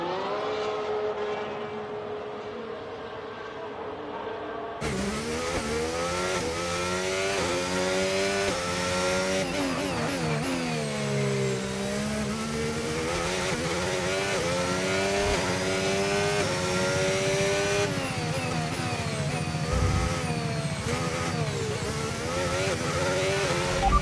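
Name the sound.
F1 race car engine revving, from video game F1 25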